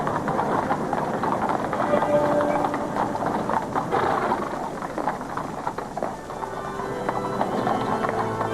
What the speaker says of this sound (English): The silence of the crowd was punctuated only by the clatter of